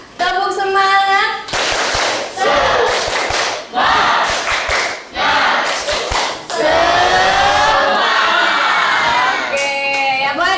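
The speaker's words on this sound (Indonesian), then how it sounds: "Ayo lagi sekali lagi kurang kompak. Ayo Azga, tepuk semangat." A vocational high school class claps a rhythmic spirit clap in loud, repeated bursts, mixed with students shouting, while a teacher's voice is heard at the start and end.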